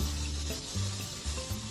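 A beef patty seasoned with salt and black pepper fries over high heat in a pan, giving a steady, close sizzle that holds an even level throughout.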